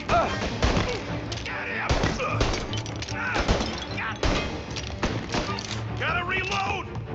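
Gunfire in a Mafia Definitive Edition shootout, with repeated sharp bursts and crashing impacts up close, mixed over a tense musical score while someone shouts during the exchange.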